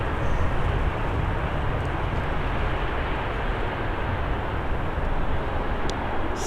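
An Airbus A330 airliner rolls along a wet runway at Manchester Airport, giving a loud, steady roar of engines and spray that stays constant and dense throughout with no talk.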